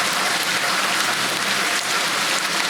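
Rain falls steadily in a dense, even hiss with no breaks. It is close and uniform, with no voices.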